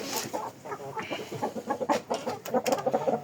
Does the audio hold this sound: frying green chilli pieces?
no